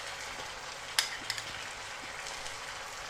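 Chopped tomatoes fry in a pan, a steady soft sizzle and crackle with a few sharper pops and spatters near the start, no voices over it.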